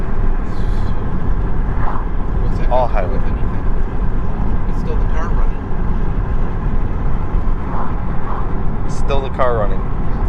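A 2016 Ford Focus ST cruises at highway speed, its steady broadband engine and road drone continuous and close throughout, with a few brief voices speaking over it.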